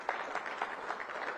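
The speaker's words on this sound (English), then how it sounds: "let's give a round of applause for the young people that are in the room" An audience at a community listening session claps in a brief, dense round of applause, steady and fairly loud with no voices over it.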